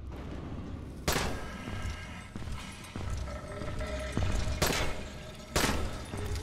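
Gunfire in the Dying Light video game: several sharp broadband shots at irregular intervals over a steady background din, with no talk.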